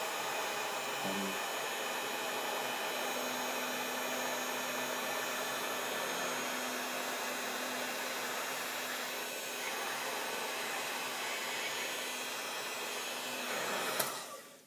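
A heat gun set to 1,000 degrees blows steadily on an iPhone 4S to soften the adhesive under its screen, a continuous close whooshing hiss that runs unbroken the whole time and cuts off abruptly with a click near the end.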